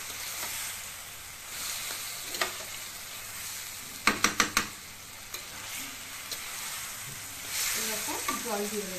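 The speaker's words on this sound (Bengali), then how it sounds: "ভালো করে নাড়িয়ে নেব।" Soaked ingredients stirred in a frying pan, a soft continuous sizzle with a quick run of sharp scraping clacks of a spatula against the pan midway and lighter scrapes after.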